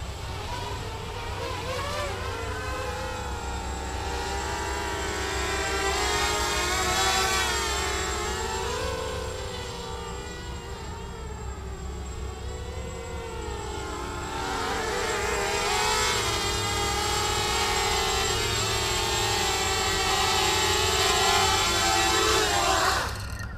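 A 290mm carbon fiber hexacopter drone flies with a loud, sustained buzzing whine of six motors, its pitch rising and falling through the flight as throttle changes, continuous and fairly close throughout.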